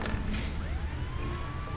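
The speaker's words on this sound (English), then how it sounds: "there are sirens going off in the background of that one" Background music for a tabletop role-playing session, carrying a wailing siren that sweeps and glides through a long rising tone, faint and steady under a low ambient bed.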